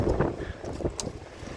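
Strong wind gusting across an open farm in winter, a rough broadband roar that buffets the microphone in uneven bursts, loud and close, with no voices.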